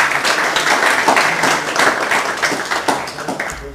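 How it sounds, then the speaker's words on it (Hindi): An audience at a Modicare business training session gives loud, enthusiastic applause for a presenter, many hands clapping in a dense, continuous burst close by. "एक बार सर के लिए जोरदार तालियां प्लीज"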